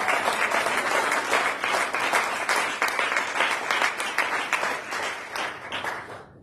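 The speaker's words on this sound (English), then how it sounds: "clap your hands one more time for the Lord" A church congregation clapping during a sermon, brisk rhythmic handclaps from many people that carry on steadily and then fade slightly toward the end.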